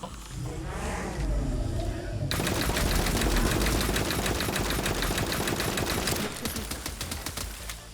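A hand cannon in the looter-shooter game The First Descendant fires off a full magazine in a loud, rapid string of shots lasting several seconds, following a short stretch of talking.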